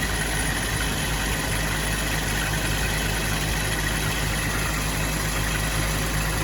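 A car engine idles fast with the choke pulled out, a steady, loud, even hum with constant vibration and no pauses throughout.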